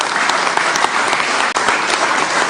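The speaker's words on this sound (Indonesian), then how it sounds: "Kita berikan tepuk tangan yang meriah buat beliau." Loud, dense applause from a political gathering audience clapping for Megawati Soekarnoputri, chairwoman of PDI Perjuangan, continuous and close, with a momentary dip in the middle.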